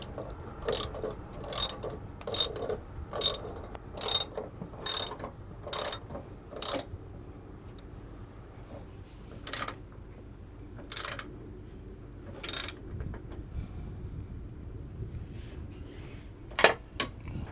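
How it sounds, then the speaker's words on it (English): A socket wrench ratchets in short, sharp bursts of clicking while tightening a bolt on a SuperSprings SuperSway Stops install on a 2022 Ford F-450. The bursts come regularly, then space out, close and clear, with no talk. "all you're going to need is a 9/16 inch socket or a wrench to tighten this up"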